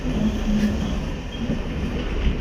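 On a cold winter night, a Shantipur to Simurali local train rolls into Kalinarayanpur junction with a steady, close rumble of wheels on rails, a faint squeal riding on top, and no talk.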